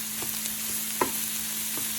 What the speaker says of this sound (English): I added the meat and I'm just kind of stir frying, saute